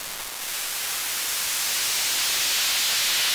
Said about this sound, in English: You could also emulate the sound of a vinyl scratch or something like that with this,